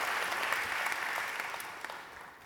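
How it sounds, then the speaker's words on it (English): An audience at a public discussion bursts into steady applause, a dense, even wash of many hands clapping that holds throughout and tapers slightly at the end, with no voices over it. "That deserves your applause."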